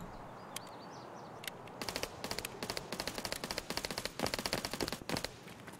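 Rapid automatic gunfire crackles in Escape from Tarkov on the Customs map, a few isolated shots giving way to repeated quick bursts of rattling fire, moderately distant, over quiet outdoor ambience.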